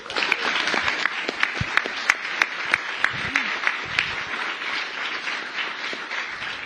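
An audience at a COP 28 panel of U.S. senators on climate action applauds steadily, with distinct individual claps audible within the sustained clapping.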